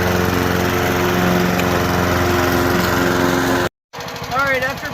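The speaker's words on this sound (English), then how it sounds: "listen to it idle. It actually runs really well" A cheap used Honda lawn mower's small engine runs at a steady, loud idle close by with a buzzy drone for most of the stretch, then cuts out briefly before resuming, joined by some faint background sounds.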